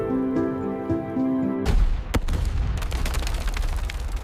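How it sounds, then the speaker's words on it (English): A low tonal drone cuts off into a sudden loud blast in a forest, followed by a sharp crack and a lingering crackling rumble with scattered pops. "The explosion tears through the forest canopy"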